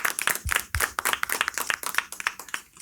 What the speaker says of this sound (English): Can we have a big round of applause, guys?